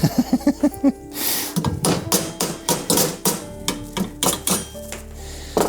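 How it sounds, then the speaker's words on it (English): A hammer tapping metal on a Mini Cooper race car seat fitting in quick bursts of sharp ringing strikes, close up, with short pauses between runs of blows. "got your hammer there, Mark."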